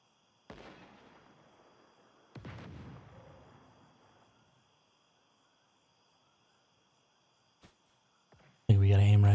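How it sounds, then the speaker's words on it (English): Missiles exploding in the video game Once Human on a hard server: two distant booms a couple of seconds apart, each trailing off in a soft rumble, then a faint click and a sudden loud noise at the very end. "they're just shooting missiles at each other."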